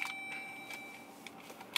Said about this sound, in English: I like the beep sound.